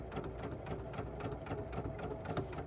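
A sewing machine stitching fabric for a 1930s sampler quilt block, its needle running in a steady, fast rhythmic clatter throughout, close and even, with no voices.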